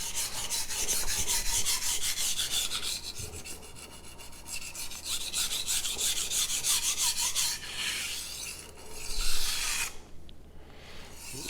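Rhythmic rasping strokes of a Magnacut steel knife drawn across a whetstone, close and steady, with a brief pause near the end before the strokes resume.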